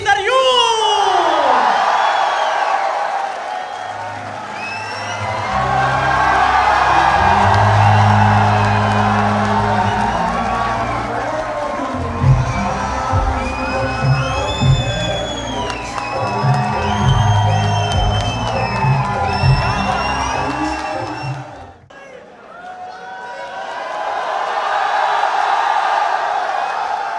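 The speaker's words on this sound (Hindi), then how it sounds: "आप सबकी भरपूर तालियों में जनाब अली ज़रियूर" An audience at a poetry recital by Ali Zaryoun cheers loudly, with whoops, whistles and shouts rising and falling over about 27 seconds. A short dip comes near the end before the crowd noise swells again.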